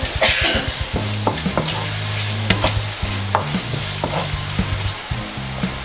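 Chinese fried noodles sizzle loudly in a hot pan while being stirred, with steady frying hiss and repeated rhythmic scraping strokes throughout.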